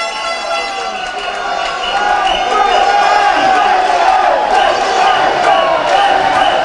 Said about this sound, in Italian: Mentre i tifosi incitano